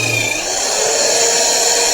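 A drill fitted with a wire brush scrubs the surface of a wood stove during a workshop restoration, giving a loud, steady, abrasive whir that runs unbroken with no talking.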